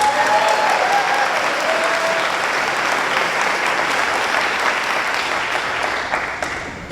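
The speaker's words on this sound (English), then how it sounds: "So let's give Ronak a round of applause." Loud, sustained applause from a sold-out audience of several hundred at a live event, a dense wash of clapping that fades slightly toward the end.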